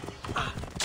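Horse hooves clip-clop briefly in the video game Assassin's Creed Origins, a quick run of several close, distinct hoof strikes on hard ground.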